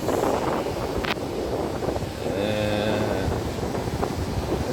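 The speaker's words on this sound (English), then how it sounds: "AC is on. You can hear the sound of the wind. It's blowing really strong." A broadband rush of strong airflow from the vents of a ten-year-old black Sonata LPG with the air conditioning set to maximum cold, steady and close throughout with a few brief knocks.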